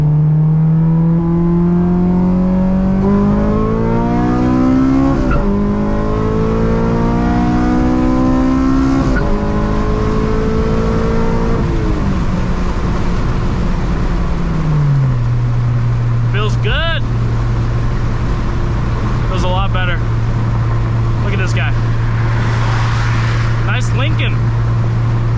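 A Nissan 350Z HR and a Honda Civic Si accelerating hard in a roll race from about 40 mph, with the engine's pitch climbing through several gear shifts and then settling into a steady drone. Loud and close, with brief chirps near the end.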